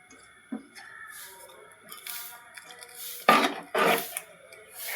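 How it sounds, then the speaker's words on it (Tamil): Anchovy aviyal being stirred in a pot, scattered scrapes and soft clinks of a spoon against the metal, with two louder scraping strokes toward the end, close and otherwise quiet. "நல்லா கிண்டி விட்டுருங்க."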